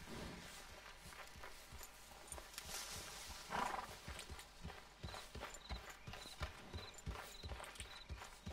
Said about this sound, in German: Auf deine Hufe aufpassen, Pferd.